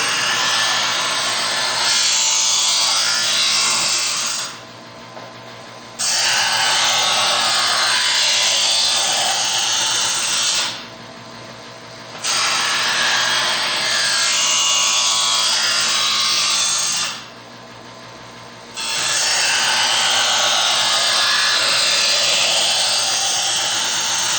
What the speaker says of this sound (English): And we're going to do 3 strokes on each side. Starting with the stone first.